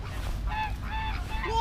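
Several large white geese honk at a farm in Moscow, a run of nasal calls rising and falling close by over a steady low rumble of background noise.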